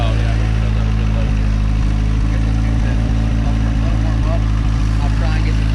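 A Honda Civic engine idles loud and close with a steady low rumble, small irregular pops breaking the drone, while people talk over it.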